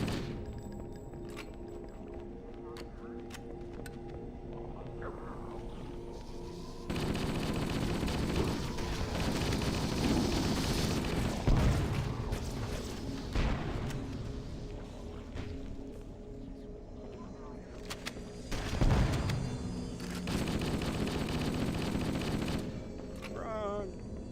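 Automatic assault rifle gunfire in the first-person shooter Halo: Combat Evolved, sustained bursts with heavy thuds over game ambience, loud and continuous through most of the stretch.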